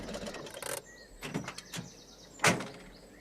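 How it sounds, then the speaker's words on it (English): A bus door on a children's animated postal delivery outing slides open with a mechanical whir and hiss, followed by softer clunks and a sharp closing thud near the end. "The door's on the other side, Granny Dryden."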